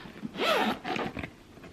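Zipper on a zip-top tote bag pulled open or shut in a couple of quick, close rasping strokes, with no talk over it.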